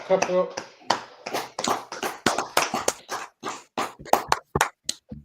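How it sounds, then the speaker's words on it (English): Rhythmic hand clapping rings out at a lively religious gathering, sharp claps tumbling quickly one after another, mixed in with raised voices and chanting. "Clap it up"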